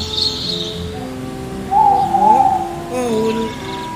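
An owl calling, with a few soft, tonal hoots and warbling notes close by, one after another over a faint background hiss.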